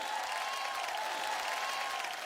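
A studio audience on a Hindi TV show claps in a faint, steady patter of applause heard from a distance, with no voices over it.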